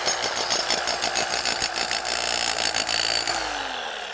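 A Full Boar 1050W 12J demolition hammer fitted with an SDS MAX clay spade digs into soil, its steady loud hammering rattle running continuously up close before winding down at the end.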